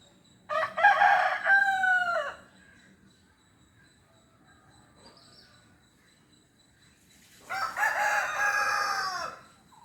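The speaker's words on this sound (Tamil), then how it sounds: "இந்த சேவல்கள் பல இடத்துல இருக்கிறவங்க இவங்களுக்கு ரெஸ்பாண்ட் பண்ணுறாங்க" Two roosters crow in turn, one fairly close and one answering several seconds later, each a long rising cock-a-doodle-doo separated by a quiet gap with a faint distant call.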